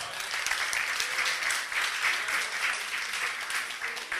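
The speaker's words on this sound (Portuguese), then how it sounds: "Aplausos." A crowd at a talk on the creative economy and leadership gives sustained applause, a continuous even wash of many hands clapping throughout, moderately loud and without voices.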